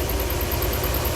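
A Ford 351 Cleveland V8 fitted with a throttle body upgrade idles roughly and shakily, with too much fuel puddling in the intake; a steady, close, low rumble with an uneven pulse continues throughout, with no talking.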